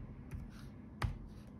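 A few faint, sparse key clicks from a laptop computer keyboard as a command is typed, quiet and close, with short gaps between strokes.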